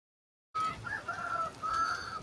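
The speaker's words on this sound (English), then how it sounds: "Chicken!" Chicken clucking in the survival game Vintage Story, a few sharp clucks and squawks that start abruptly after a moment of silence, close and clear with no talking.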